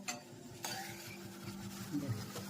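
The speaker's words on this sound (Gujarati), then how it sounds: "મસ્ત મજાની ભાજીનો વઘાર થઈ રહ્યો છે" Leafy tanjaliya greens being tempered in a pan: a spoon clinks and scrapes against the metal in a few scattered knocks, with a soft, faint sizzle underneath.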